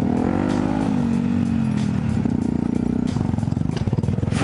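Supermoto motorcycle on a bumpy hill climb course, engine loud and close, droning then pulsing with rapid revs and clattering over rough ground.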